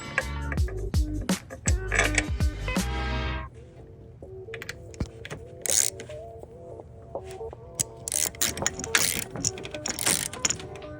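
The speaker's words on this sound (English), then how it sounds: "I'm gonna go ahead and start threading the nuts on there to at least hold this side in place" Nuts threaded onto engine mount bolts in a Focus ST engine bay, with close metallic clicking and ratcheting in quick irregular bursts over a low mechanical hum.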